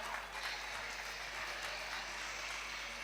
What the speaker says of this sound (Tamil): அனைவரும் கரகோஷங்களை எழுப்புங்கள்.